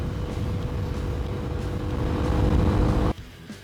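A Suzuki DR250 Djebel motorcycle drones steadily at speed on a highway with a constant engine and wind roar, which cuts off abruptly near the end.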